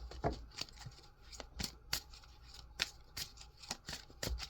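Oracle cards being shuffled by hand, soft close riffling and snapping flicks in an irregular run of quick bursts, fairly quiet with no talking.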